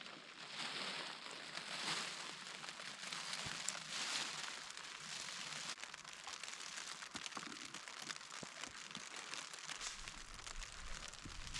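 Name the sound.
rain falling on a mountain camp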